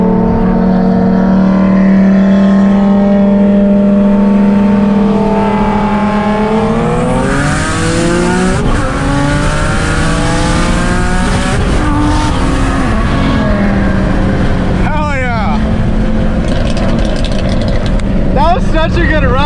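A single-turbo Nissan 350Z with an HR engine on a racing run, revving hard and climbing through gears with rising engine notes, loud and close, with sharp tire and turbo sounds later and people talking over it.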